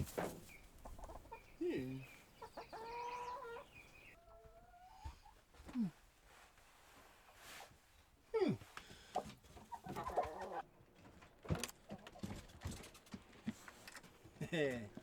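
Chickens clucking and squawking close by, scattered irregular calls over about fifteen seconds with faint rustling and occasional speech in between.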